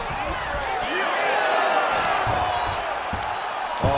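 Video game UFC 5 arena crowd roars and cheers as a fighter reverses position, a dense, sustained swell of noise with a commentator talking over it.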